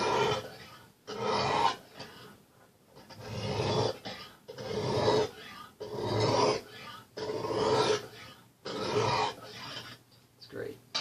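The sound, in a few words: knife being sharpened on Lansky sharpening system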